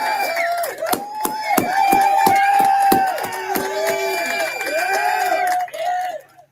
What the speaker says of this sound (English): let's give Jack and Lovin a round of applause for helping